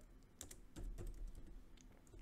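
Quick, light typing on a computer keyboard, close and quiet, with a fast irregular run of soft key clicks and no voice.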